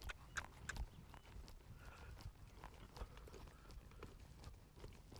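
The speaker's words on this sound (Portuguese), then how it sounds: "Vou para o trote. Um bom trote, organizado, com calma." A horse trotting calmly toward ground poles in an arena, soft rhythmic hoofbeats thudding steadily under faint ambient noise, with a couple of sharper knocks early on.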